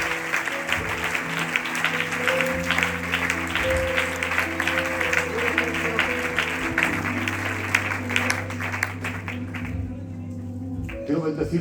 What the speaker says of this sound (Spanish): ¿Quieres dar un aplauso al Señor,